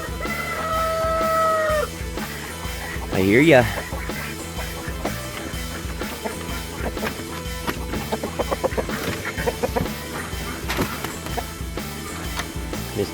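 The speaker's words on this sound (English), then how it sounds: "There he is in his little rooster run." Backyard farm rooster in its run, clucking and giving a short crow near the start, with busy farmyard noise and some talk around it.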